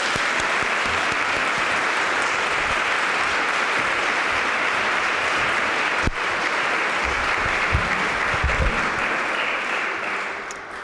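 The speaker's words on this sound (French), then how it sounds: "tout le monde mérite une bonne main d'applaudissements" Sustained applause from a large audience fills the whole stretch, steady and dense, tapering slightly toward the end.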